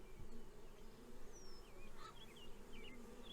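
A honey bee swarm drones in a steady, dense buzz close by, with faint bird chirps drifting in from the distance.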